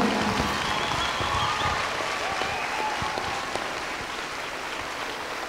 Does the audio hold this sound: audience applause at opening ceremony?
yes